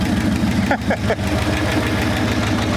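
An abandoned 1974 Ford Bronco engine idles after decades of sitting, running without a radiator, a loud close rhythmic chugging with steady ticking pulses, with people talking over it.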